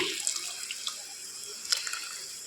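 Water poured from a tap into a churned vegetable mixture while cooking at home, a steady thin hissing stream with a few splashy drips, fairly quiet and close, no speech.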